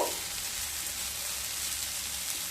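Water poured onto fried masoor dal in a hot pan raises a sudden burst at the start that settles into a loud, steady hiss of sizzling and bubbling.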